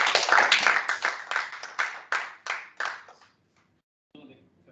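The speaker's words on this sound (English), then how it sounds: "For that presentation, let's give him another round of applause." An audience claps after a presentation at a regional training-of-trainers workshop in Malawi. A burst of applause fades through a series of separate clapping swells and dies out, and faint sound returns briefly near the end.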